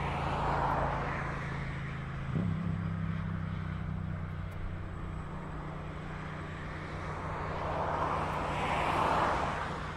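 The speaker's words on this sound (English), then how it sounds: "It should be should look rather cool with the aircraft landing right next to us." A fixed-wing aircraft comes in to land at East Midlands Airport in the evening, a steady broad engine roar with a low hum, swelling louder toward the end as it passes close by.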